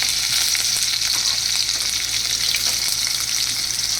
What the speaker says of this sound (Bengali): এবারে এর মধ্যে দিয়ে দিচ্ছি পেঁয়াজ কুচি, আর দিচ্ছি রসুন কুচি।